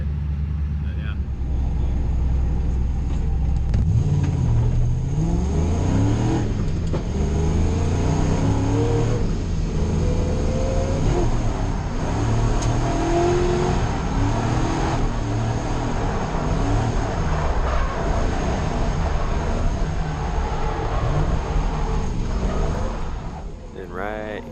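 A drift car's engine revs and rises and falls in pitch on track at a night drift event, a loud, sustained roar with shifting whines throughout, while a person talks over it.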